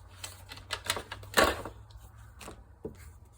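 Paper for a reading journal is trimmed at close range, a series of short crisp clicks and snips with one louder cut in the middle, then a few quieter taps; no one speaks.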